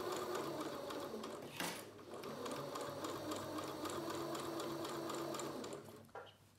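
A sewing machine stitches fabric for a beginner fabric bucket, running in a steady, close whirring hum with a brief break near the start and a slowdown at the end.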